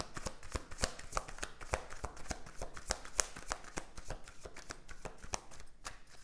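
Tarot cards are shuffled by hand in a quick run of crisp, papery riffles and slaps, close up but fairly quiet, with no voice over them.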